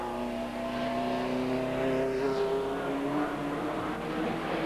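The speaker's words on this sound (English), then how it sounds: "There's the man in the background as Flux comes down, brakes, changes down" A TVR Tuscan race car at a 1995 Tuscan Challenge race brakes and changes down, its engine note falling and shifting in pitch, loud and steady with a racing-circuit wash behind it.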